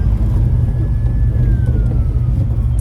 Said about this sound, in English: Heard sirens, but they're on the highway that I'm not taking.